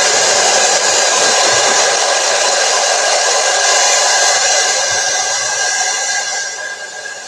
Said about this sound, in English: let's dry this off a little bit